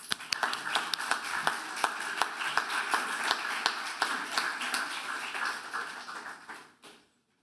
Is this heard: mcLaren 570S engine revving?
no